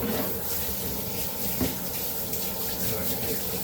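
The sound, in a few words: hot water running from a tap while washing hands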